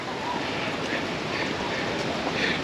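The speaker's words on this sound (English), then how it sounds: "Wind's starting to pick up." Wind rising through a forest near Mammoth Cave, Kentucky, makes a steady, fairly loud broadband rush with faint gusting swells and no clear voices.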